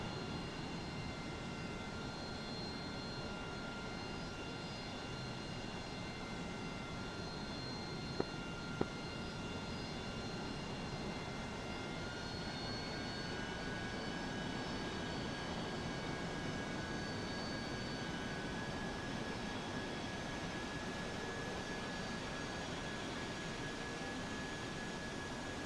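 A-10C jet taxiing on a runway in the DCS flight simulator, a steady engine whine and hum that stays constant throughout, with a faint tonal drone rising slightly in pitch partway through and two brief clicks near the middle.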